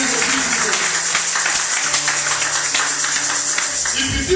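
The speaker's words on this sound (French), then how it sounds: "Il faut applaudir pour vous." A church congregation at a thanksgiving service clapping rhythmically, loud and dense applause that runs the whole way, mixed with voices and music.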